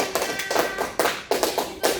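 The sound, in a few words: students clapping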